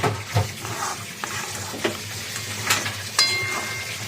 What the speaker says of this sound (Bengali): দিয়ে এবার একটু নাড়াচাড়া করে নেব।